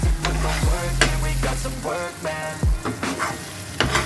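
Egg rice with two eggs being stirred and fried in a pan over high flame, steady sizzling under repeated scraping and stirring strokes of a utensil, close and fairly loud, no talking.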